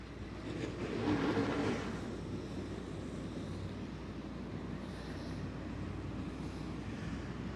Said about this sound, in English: Pace vehicles off the back straightaway.